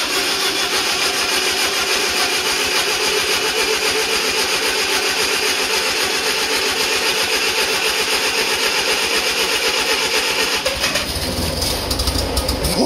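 The engine of a 1947 Hughes loader Doodle Bug, unstarted for five years, cranks loudly with a rapid, steady rhythmic chugging that carries on for several seconds, and its tone shifts abruptly near the end.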